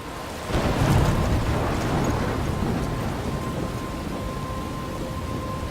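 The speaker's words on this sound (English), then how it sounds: "I'm trapped in a storm?" A thunderstorm in the video game Life Is Strange starts with a sudden rumbling crash of thunder, then rolls into a steady, loud wash of rain and wind that continues throughout, with no voices.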